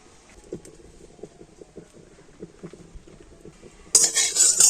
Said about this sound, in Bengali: উনুনটা জেলে উনানে একটা কড়া বসিয়ে দিচ্ছি তো প্রথমে আমি কড়াতে দিয়ে দেব এক চামচ সর্ষের তেল